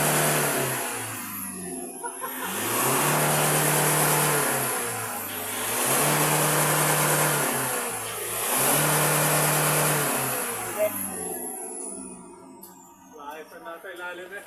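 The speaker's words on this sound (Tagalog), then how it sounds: "Titingnan natin ang hatak ng makina." A remapped car engine is revved hard three times in a row, each long rise and hold separated by a drop back to idle, close and loud, with people talking in between.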